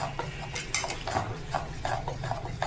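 A spoon stirs chocolate as it melts into thickened milk in a pan for a chilled cake, making a steady run of soft, rhythmic scrapes and light clinks close by.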